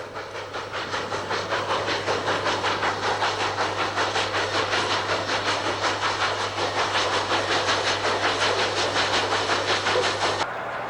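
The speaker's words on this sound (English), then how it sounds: "3759 is almost at the end of its tough climb as it steams through the curved cut at Summit." Santa Fe steam locomotive 3759 working hard up a grade through a curved cut, on 1955 film: rhythmic chuffing exhaust beats with hiss, steady and fairly loud, with a constant low hum underneath until it cuts off near the end.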